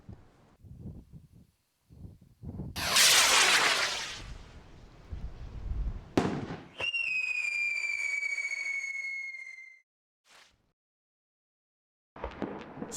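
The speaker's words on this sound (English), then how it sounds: "The rocket behaves exactly as planned, right down to the screamers." A firework rocket launches with a loud rushing whoosh, then a sharp bang, followed by a long, high, steadily falling screamer whistle that lasts several seconds before fading out.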